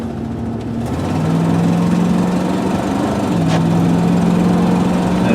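A 2000 GMC Sierra 4x4 extended-cab pickup with a 6-liter engine runs steadily nearby, a loud continuous low drone with a deep hum that shifts in pitch slightly, with no voices.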